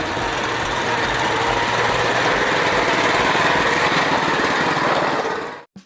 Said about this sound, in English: this is a motorcycle that operates impressively in a number of unique terrains.